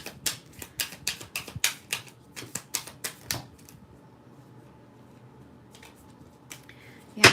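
Tarot cards are handled during a reading, giving a run of crisp, rapid snapping taps for a few seconds before a quiet stretch and a couple of faint later clicks, heard close and alone.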